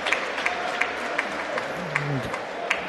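Spectators applaud from the stands at a Hungary–Croatia national team futsal match, a steady broadband patter of clapping with a commentator's voice and arena noise running over it.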